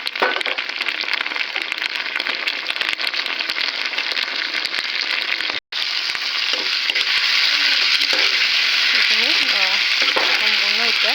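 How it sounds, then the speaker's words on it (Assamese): Tomatoes tipped into a pan of fully fried onions set off a loud, steady sizzle with stirring scrapes, briefly cut off partway, then frying on continuously. "এয়া পিঁয়াজখিনি সম্পূৰ্ণ ভাজা হৈ গৈছে। এতিয়া মই ইয়াতে বিলাহীখিনি এড কৰি দিলোঁ।"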